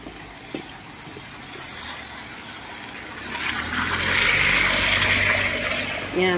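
Rainwater runs steadily during a downpour, a continuous broadband rush that swells noticeably louder halfway through and stays close and full to the end.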